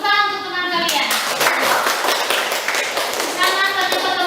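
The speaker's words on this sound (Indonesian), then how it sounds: "Tepuk tangan untuk teman kalian." A classroom of pupils claps for their classmates after a group presentation, a dense burst of hand claps filling the room, with children's voices heard in the background.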